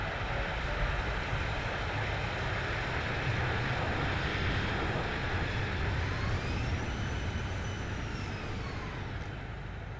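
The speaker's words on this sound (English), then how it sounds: "Doesn't sound like a real plane to you guys?" Steady jet engine roar of a Boeing 737-800 in the X-Plane 11 flight simulator, a continuous broadband rumble with a rising whine toward the end, heard alone without talk.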